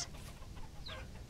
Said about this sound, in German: Oh, Hühner.